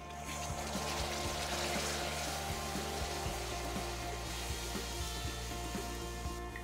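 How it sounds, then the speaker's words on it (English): Water poured into a hot pan of caramelized sugar and soy sauce gives a steady, soft hissing rush over a low hum, quiet and continuous for several seconds. "Once it's nicely caramelized, we add in the water now."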